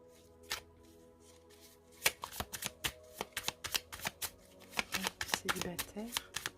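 A deck of playing cards is shuffled and cut during a tarot-style reading, giving a rapid run of crisp riffling snaps and flutters that build into a dense, close burst.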